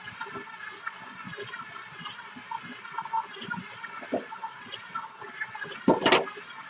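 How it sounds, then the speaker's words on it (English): Tap water runs and trickles into a kitchen sink during cleaning, with soft splashes and dish clatter, ending in a brief louder gush near the end. "Clean out my sink real quick."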